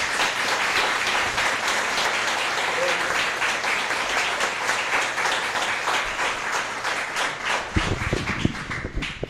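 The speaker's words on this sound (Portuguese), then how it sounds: "Ele merece uma salva de palmas." A church congregation applauds during a service, with sustained, even clapping from many hands that runs for several seconds, then breaks into louder, more scattered individual claps near the end.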